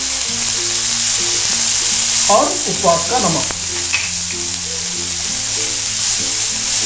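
Chopped tomatoes and sesame seeds sauté in a pan with a continuous sizzle, under background music and a short stretch of talk partway through.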